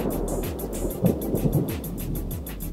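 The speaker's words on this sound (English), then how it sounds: "Got a little recorder going here so I can record the thunder as it occurs." Low rolling rumble of thunder from a lightning storm on the plains, a steady deep roar with a few swells and bumps, continuous and fairly loud with no voices.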